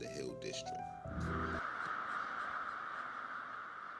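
Crows caw in trees above Bigelow Boulevard in Pittsburgh's Hill District, a winter roost of tens of thousands; a burst of harsh calls comes first, then a steady background hiss.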